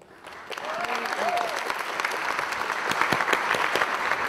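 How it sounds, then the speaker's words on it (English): Applause builds from a quiet start as a volunteer steps onstage at a magic and wonder talk, swelling into steady crowd clapping with a few distinct near claps, and a brief voice calls out early on. "An applause for David."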